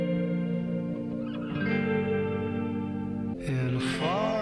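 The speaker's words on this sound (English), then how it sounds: "Real 1950s Fender reverb sound" Electric guitar with a 1950s Fender-style spring reverb in a rock song, sustained wet chords ringing with echo and chorus-like shimmer over bass and drums, with a louder bright burst near the end.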